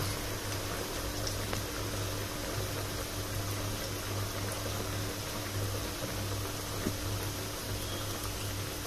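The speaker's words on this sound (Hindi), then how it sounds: "लो फ्लेम पे ही इसको हमें तलना है" Paneer kofta balls fry in hot oil over a low flame, giving a steady, close sizzle and bubbling hiss that continues evenly throughout with no talking.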